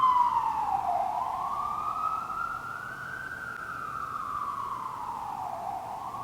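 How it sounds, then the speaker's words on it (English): A single siren wails through a busy New York City street, its pitch sweeping slowly up and down in long, smooth arcs. It sounds moderately distant, with faint road rumble underneath and no voices. "we've had our moment of silence for the ambulances that race around New York City all day lately"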